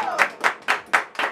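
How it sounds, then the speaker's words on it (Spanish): A small group of family members at a birthday serenade with a mariachi band claps about five times in an even rhythm, close by and fairly loud. "El aplauso, bien bonito."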